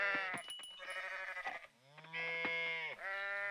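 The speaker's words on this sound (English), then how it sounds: "Because the sheeps are ready, and of course the cows are ready." Sheep in the farming game Coral Island bleat loudly in quick succession, several wavering calls overlapping one another with no talk over them.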